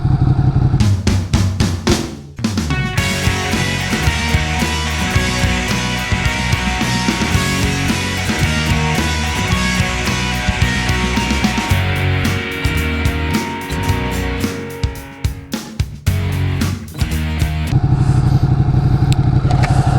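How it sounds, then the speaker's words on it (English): A 2018 Ducati Panigale 959 sportbike engine runs loud and close while commuting, with repeated throttle blips and revs, brief dips in the roar and clattering mechanical texture throughout. "I want to talk about commuting on a Ducati Panigale"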